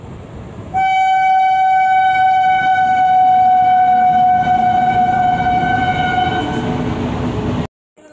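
A freight train at a railway station sounds a loud, sustained horn, a single steady tone that holds for about seven seconds over rumbling rail noise before cutting off abruptly.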